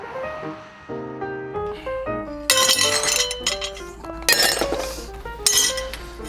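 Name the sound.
broken glass being cleaned up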